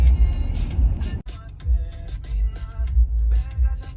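Road traffic on a Florida road rumbles around a car, with low engine rumble swelling and fading in uneven waves and a brief cut in the sound.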